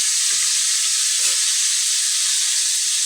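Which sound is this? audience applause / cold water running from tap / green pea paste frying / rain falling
green pea paste frying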